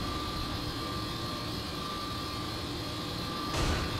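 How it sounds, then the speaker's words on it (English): A helicopter in the video game Saints Row: The Third gives a continuous engine drone with a steady whine on top. It holds at an even level throughout, and a brief rush of noise comes near the end. "We have a helicopter, by the way, on our right."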